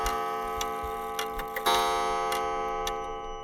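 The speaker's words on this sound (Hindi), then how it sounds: "वो घड़ी टिक टिक कर गलत समय पर गलत घंटे बजाती रहती।" An old pendulum wall clock ticks in a steady rhythm, its sharp clicks coming about twice a second over a faint sustained hum, close and quiet with no voices.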